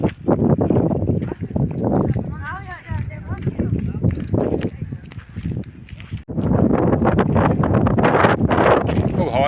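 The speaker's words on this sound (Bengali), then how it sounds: "খুব হাওয়া দিচ্ছে এখানে, দারুণ হাওয়া।" Strong wind on a hilltop buffets the microphone in loud, rough gusts, with people talking almost continuously over it.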